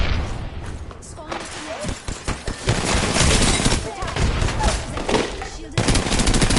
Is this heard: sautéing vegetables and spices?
no